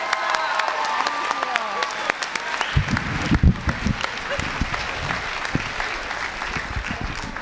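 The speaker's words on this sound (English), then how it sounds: "I think they need another round of applause up here" Applause from a writers' festival audience for a panel, crowd clapping and some cheering in a large room, with voices mixed in and a burst of louder claps partway through.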